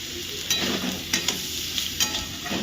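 Sliced potatoes fry in a pan with salt and spices for a Bengali pomfret jhal, giving a steady close sizzle broken by a few stirring scrapes, with no talking.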